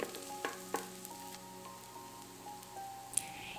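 Diced onions sautéing in ghee in an Instant Pot, a soft, quiet sizzle broken by a few clicks and taps of a utensil stirring, with a steady faint appliance hum underneath and no voices.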